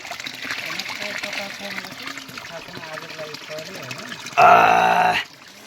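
Spring water trickles and flows steadily beneath someone speaking, then a louder gush of running water surges briefly near the end before fading; outdoors in Dang, Nepal.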